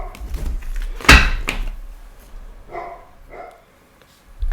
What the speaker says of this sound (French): excusez-moi pour les aboiements de mes chiens.